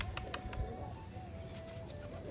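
Gribaz pigeons at a pigeon loft give soft low cooing under a faint background hum, with a few quick wing flaps, quiet and close.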